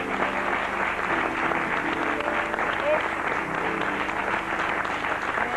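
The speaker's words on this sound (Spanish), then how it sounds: "Un aplauso, señores" A studio audience on a 1987 Argentine television variety show claps steadily at moderate loudness, with a faint voice beneath the applause.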